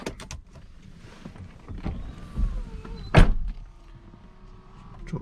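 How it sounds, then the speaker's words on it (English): Mercedes-Benz SLK280 power window lowering, a faint electric motor whine in the cabin lasting a couple of seconds, with soft clicks and thumps around it and a sharper knock near the end. "Drop the window"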